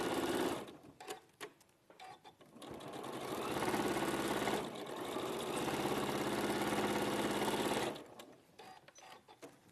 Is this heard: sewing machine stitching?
yes